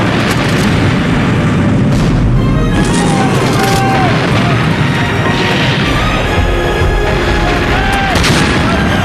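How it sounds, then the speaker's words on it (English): A sailing warship's cannon fire in a broadside, heavy repeated booms and crashes rolling over one another continuously at high volume, with shouting voices mixed in. "Lieutenant Guns! Fire!"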